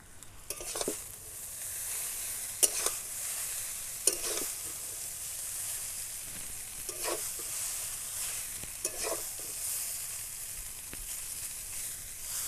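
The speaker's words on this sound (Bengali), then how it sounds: "চাউমিনগুলো আমি দুবার করে ভাজবো, অর্ধেকটা দিলাম আর অর্ধেকটা পরে ভাজবো।" Half a batch of chowmein noodles fries in a pan for restaurant-style egg chowmein, a steady moderate hiss with scattered clinks and scrapes of stirring, heard close and alone.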